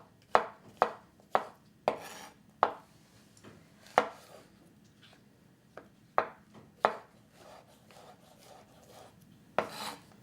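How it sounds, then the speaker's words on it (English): Knife slicing mushrooms in half on a cutting board during stir-fry prep: a series of crisp, irregular chops and thuds, close and clear, with quiet scraping between strokes and no talking. "just go ahead and cut our mushrooms in half so we have a nice flat surface to work on"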